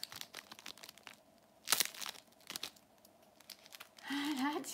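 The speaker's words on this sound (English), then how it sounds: "Could you hear it? It sounds crunchy." A sharp, brittle crunch as a thin, crisp sakura sweet snaps, followed by faint crinkling and a brief rising squeak near the end.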